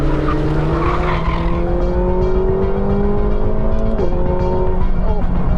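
A 2024 McLaren 750S V8 drones loudly and climbs steadily through the gears on a Portuguese racetrack, dropping briefly on a shift before rising again, with faint tyre noise, close and continuous.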